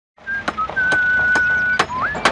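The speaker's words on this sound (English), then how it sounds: "spent his 40-year career whistling as he worked" A builder whistles a sustained tune while working, clear close whistling with short sharp knocks or clicks punctuating it.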